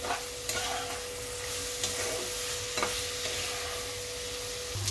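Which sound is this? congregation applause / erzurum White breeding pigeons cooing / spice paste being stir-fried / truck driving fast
spice paste being stir-fried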